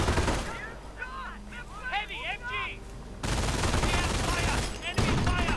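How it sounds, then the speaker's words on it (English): An MG42 machine gun fires in a World War II video game battle, bursts crackling amid distant gunfire and whistling effects, then a loud sustained barrage takes over. "MG42 though firing away"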